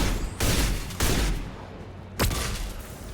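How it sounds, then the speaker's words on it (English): Flashbang grenades go off in a Mass Effect firefight, three sharp loud bangs about a second apart, each trailing into a noisy roar of gunfire. "Watch out, flashbangs."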